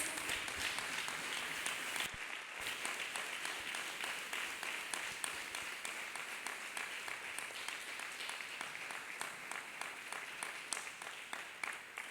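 A church congregation claps hands steadily and loudly for the whole stretch, a dense continuous patter with no speech on top.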